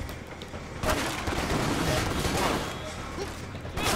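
Dense gunfire from the Stranglehold video game, a continuous roar of rapid shots and impacts swelling over a few seconds, loud and up front with a voice mixed in.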